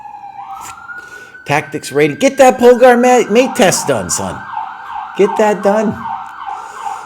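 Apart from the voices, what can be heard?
emergency vehicle sirens outside open window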